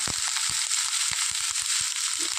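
Onions frying with salt in a pan for a green chilli dish, a dense hissing sizzle over quick irregular crackles and spatula taps.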